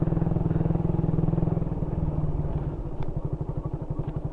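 Motorcycle engine running steadily with a fast rhythmic pulsing beat, loud and close, with occasional clatter and knocks from riding over a rough road.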